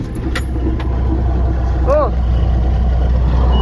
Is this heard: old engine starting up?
yes